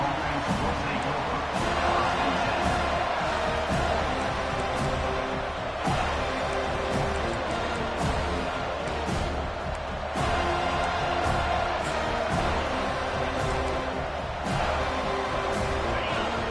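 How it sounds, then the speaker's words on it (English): A stadium crowd roars in the College Football 25 video game during a TCU matchup, a steady dense wall of cheering that carries under an announcer's play-by-play commentary throughout. "This crowd bringing an ear-splitting welcome to their visitors."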